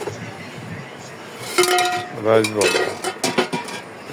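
Brass and bell-metal pots and bowls clink and rattle as they are handled, in a cluster of bright metallic knocks close to the listener. A person talks alongside them.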